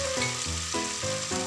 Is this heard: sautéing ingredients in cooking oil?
yes